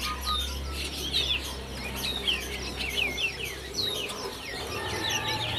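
Bird calls ring out in a crowded bird shop at Pramuka market: repeated bright chirps and short trills, including a Javan bush lark, rise over a low background hum and scattered clucking from other birds.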